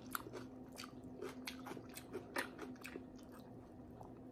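Fresh cucumber dipped in vinegar is bitten and chewed close to the mic, a steady run of crisp, wet crunches repeating for several seconds at low volume.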